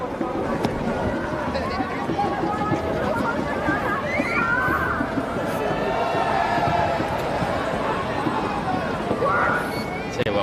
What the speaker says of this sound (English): We've got a fantastic crowd in here today. The place is humming at the moment